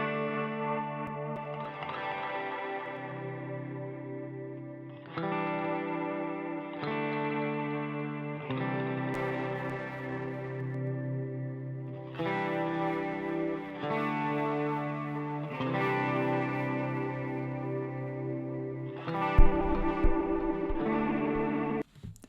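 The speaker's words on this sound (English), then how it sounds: "it's given this multi-effect layer to the guitar" Electric guitar played through the Kyle Beats Drip multi-effect plugin presets, chords ringing out with heavy chorus, modulation, delay and reverb, a series of sustained strummed phrases with short gaps between them and a distorted burst at the end.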